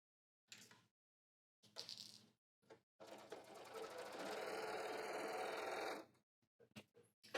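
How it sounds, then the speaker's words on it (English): A sewing machine stitches along the inner edge of a hemmed apron in a steady, close, whirring run lasting a few seconds, bracketed by short start-and-stop bursts and quiet handling of the fabric. "now we're going to stitch on the inner edge."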